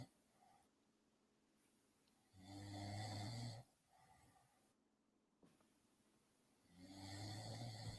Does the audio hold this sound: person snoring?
yes